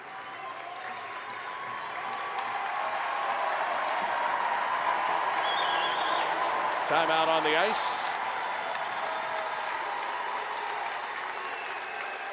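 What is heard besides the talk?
ice hockey crowd cheering on their feet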